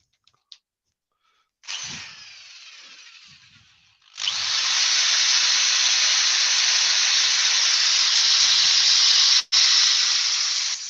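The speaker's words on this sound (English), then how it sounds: "it really does help if you plug the drill in" A loud, steady high-pitched whir of a plugged-in electric drill power sanding spalted beech wood, starting briefly, pausing, then running continuously with a short cut near the end.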